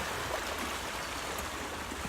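A river stream flowing through woodland at Lady Clough in the Peak District, a steady, close, even rush of water with no voices.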